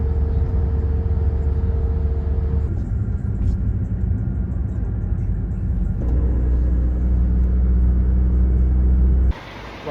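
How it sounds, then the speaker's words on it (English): Ambience at the Zagreb bus station, a heavy low rumble of bus engines idling and moving nearby, shifting in level a few times with faint background voices mixed in. "welcome to the Zagreb bus station"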